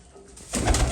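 A pigeon gives a brief, low coo that swells up after a quiet moment, close and fairly clear.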